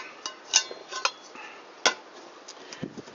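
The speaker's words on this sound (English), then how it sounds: "So that's my cooking pot" A metal camp cooking pot being handled outdoors, a few sharp clinks and light scraping knocks spaced irregularly, close and fairly quiet with no talk.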